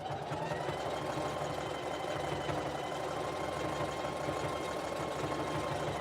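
A sewing machine runs steadily, stitching fabric strips together for a jelly roll rug, a continuous mid-pitched motor hum with a fast mechanical rhythm throughout, close and even in level.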